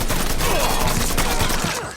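Gunfire in the video game Mafia 3, a dense, loud volley of overlapping shots filling the full two seconds and fading slightly at the end, with no talk over it.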